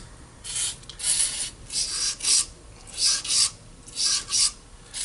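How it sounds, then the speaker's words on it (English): A bore brush with brake cleaner scrubs the valve guide bores of a Buick 264 Nailhead engine head, giving rhythmic raspy back-and-forth strokes, about eight close scrubbing bursts with brief pauses between. "take our nice bore brush here, a little bit of brake clean, and we're going to clean each one of these bores"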